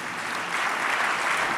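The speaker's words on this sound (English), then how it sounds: "Please give them a round of applause." An audience at a live forum event applauds in a short, even burst of clapping from many hands, moderately loud and sustained for the whole moment.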